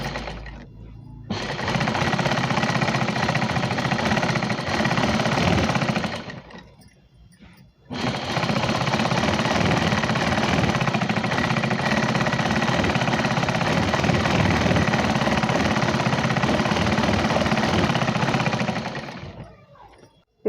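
A sewing machine stitches a four-panel petticoat with a loud, rapid mechanical rattle that runs steadily, stops briefly twice and then carries on for a long stretch, close by and with no voices.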